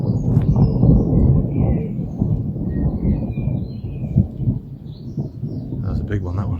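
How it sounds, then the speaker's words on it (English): Distant thunder rumbles low and long beneath faint birdsong while walking outdoors between Langley Mill and Brinsley Colliery in Derbyshire and Nottinghamshire. "Thunder's still going."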